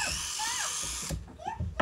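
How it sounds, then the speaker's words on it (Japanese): A power drill bores a drain hole into a plastic Tangle Teezer hairbrush, a close, steady whirring whine that runs for about a second before stopping, followed by a few small handling knocks. "だったら水を抜く穴を開けちゃおうってことよ。"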